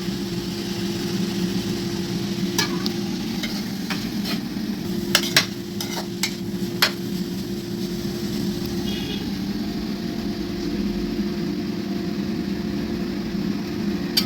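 Corn kernels being added to cooked vegetables for corn soup, stirred in a pan over steady cooking noise, with a few sharp utensil clinks against the pan partway through.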